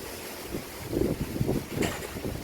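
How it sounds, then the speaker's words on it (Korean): Strong wind at a freshwater fishing spot buffets the microphone with rough, gusty rumbling over a broad hiss, rising and falling in waves. "바람 소리가 좀 센가요?"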